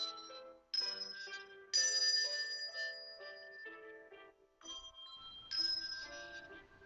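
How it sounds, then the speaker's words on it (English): Melody chimes ring out a slow tune of bright, sustained tones, each note struck cleanly and left to decay into the next, played alone without voices. "Chimes are a very unique and special instrument."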